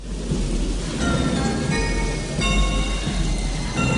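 Heavy rain pours steadily in a 1988 horror film scene from A Nightmare on Elm Street 4, a loud dense hiss with a low rumble beneath and no speech.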